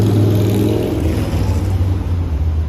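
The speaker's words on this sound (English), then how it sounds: "it's going to be noisy, loud, and then there's a lot of traffic here" A steady, loud low rumble of passing cars and engines on a busy street in Astoria, Queens, New York City, continuous and close.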